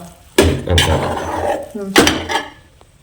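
Thick pearl millet rice, kambu soru, is stirred and pressed in a pot, with a few loud scraping, knocking strokes of a spoon against the vessel, close up, while a voice talks over it.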